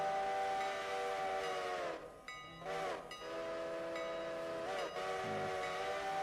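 Great Northern steam locomotive whistle in a train simulation game, sounding several long, loud, chord-like blasts separated by brief gaps, with low rail rumble underneath and no talking.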